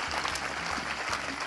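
An audience at an evening awards ceremony applauds, with continuous clapping at moderate distance that holds evenly throughout a short stretch.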